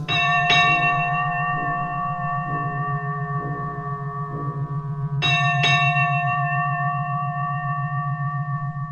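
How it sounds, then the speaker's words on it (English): A bell rung as an audio drama sound effect, heard as repeated clear metallic strikes with long ringing overtones, loud and close over a steady low hum, with no talking. "or ring the bell"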